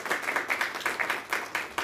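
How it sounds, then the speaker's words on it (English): Small round of applause from about 25 to 30 students in a lecture room at a university disability studies orientation, steady soft clapping from a modest group, fairly close, with no talking. "round of applause for Christy."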